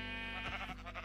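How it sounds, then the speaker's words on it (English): A sheep in a survival video game lets out a single short bleat as it is killed, a clear wavering cry heard close and alone. "I just killed a sheep."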